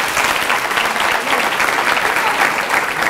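An audience at a religious lecture claps in sustained, dense applause, loud and even throughout.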